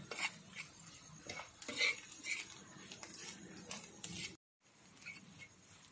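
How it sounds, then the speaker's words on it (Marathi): Spices are stirred and sautéed in a pan on a tawa for egg masala, a soft scraping and clinking of a utensil against metal with faint sizzling, quiet and close, with a brief dropout near the end. "सर्व मसाले असे व्यवस्थित असे परतून घेऊया."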